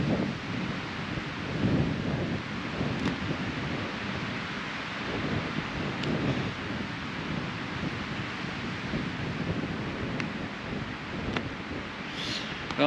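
Strong windstorm gusts on a remote British Columbia mountain during a solo hike, a loud, continuous roar and buffeting rush battering the microphone with deep rumbling throughout, no voices.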